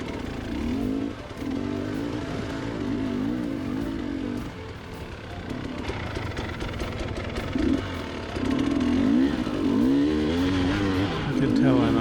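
A 2-stroke motorcycle ridden through the desert, its engine buzzing and revving steadily up and down close by for the whole stretch, with brief throttle dips between pulls.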